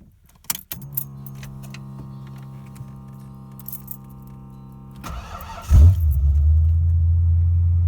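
A car with a Street Demon carburetor, freshly fitted with new primary jets, is started: an early metallic clink, a long electrical hum, then a brief crank before the engine catches and settles into a loud, steady idle.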